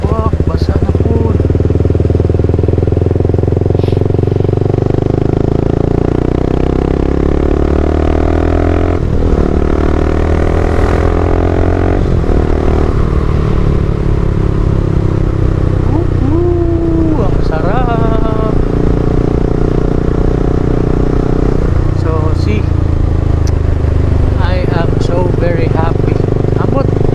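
Motorcycle engine droning steadily during a 3am solo road ride from Butuan to Surigao, loud and close through a helmet mic with wind rush and gear-change swells, while a rider talks over it.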